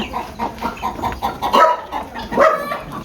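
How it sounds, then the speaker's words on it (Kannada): Country hens and their chicks cluck and chirp inside a shed kept under a sheep pen, a close, steady run of overlapping calls with a few louder bursts. "ನೋಡ್ರಿ ಮರಿ ಐತೆ ಕೋಳಿಗಳೈತೆ ಒಳಗಡೆ"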